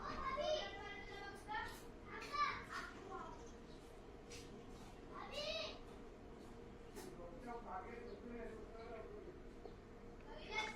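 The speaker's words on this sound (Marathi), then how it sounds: "बाहेर मुलांचा खेळायचा आवाज येतोय" Faint, distant voices of children playing and calling out, with occasional shouts rising and falling in the background.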